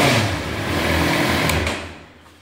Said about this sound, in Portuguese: Se você liga a moto, o motor funciona,